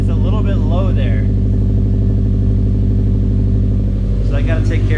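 A Subaru STI's aftermarket exhaust rumbles at a deep, steady idle, close and loud throughout, with a person talking over the grumbly drone.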